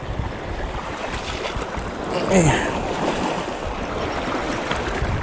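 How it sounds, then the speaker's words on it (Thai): Strong sea waves wash continuously against a rocky shore at a coastal fishing spot, a steady broadband roar that swells briefly near the middle, with no voices. "คลื่นแรงใช้ได้เลยนะ"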